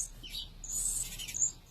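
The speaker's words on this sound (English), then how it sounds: "Baby hummingbirds need to be fed every 15 to 20 minutes." Baby hummingbirds being hand-fed with a long syringe tip at an animal rescue give thin, high, faint chirps and squeaks in short clustered bursts.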